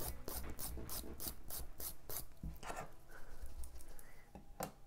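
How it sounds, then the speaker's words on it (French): A gel fingernail being filed by hand, a steady run of short rasping strokes in quick rhythm, fairly faint and close, with no talk over it. "je relime un petit coup"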